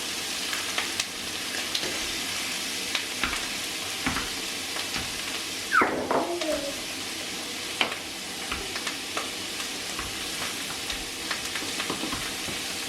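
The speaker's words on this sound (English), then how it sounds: "So now I'm gonna cook the mushroom." Mushrooms fry in a pan on the stove with a steady soft sizzle, and a few stirring scrapes and clinks break in near the middle. No one speaks.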